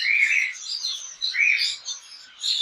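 Yellow-sided conures in a breeder's aviary giving a run of shrill, close chirps in quick bursts with short gaps between them.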